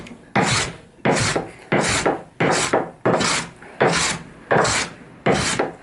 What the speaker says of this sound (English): when you're planing, you don't leave planer marks in your timber